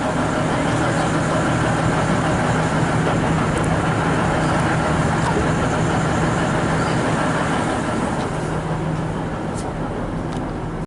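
V/Line regional train running in Melbourne, heard from inside the carriage as a steady, continuous rumble and rolling noise with a faint low hum throughout.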